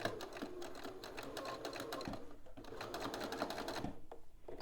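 A sewing machine stitching piping through all fabric layers: a steady, fast mechanical chatter of the needle running continuously, with brief pauses, fairly close and moderately loud.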